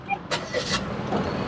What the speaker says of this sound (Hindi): सो अभी हम करते हैं इस गाड़ी को स्टार्ट।